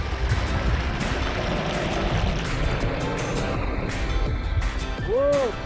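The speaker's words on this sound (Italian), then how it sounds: "Ecco che arriva l'acqua." Irrigation water gushes through farm pipes as a continuous rushing, splashing wash that stays steady throughout, with a brief rising vocal exclamation near the end.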